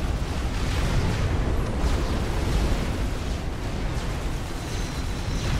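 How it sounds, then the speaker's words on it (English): Battle cruiser firing its beam weapon in the strategy game Forged Alliance Forever, a dense, continuous roar of booming explosions and rumbling blasts that stays loud and unbroken throughout. "Now you see the beam shooting from the battle cruiser."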